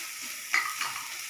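Onion and ginger garlic paste sizzling in a pan, a soft steady frying hiss with a brief louder crackle as ingredients hit the oil or are stirred.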